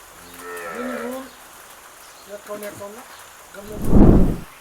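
A Gir cow lets out a drawn-out low moo near the start, followed later by a louder, deeper bellow, with quieter farmyard sounds and faint voices in between.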